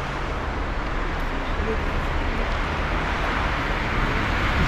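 Steady broadband road noise from cars passing continually on a street in Bagnoles-de-l'Orne, a constant dull roar with no distinct individual pass-bys.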